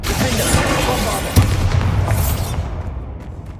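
A Bombarda spell blast in the Hogwarts Legacy video game on PS5 goes off as a loud, close booming explosion with a sharp thump and a rumbling tail that slowly fades.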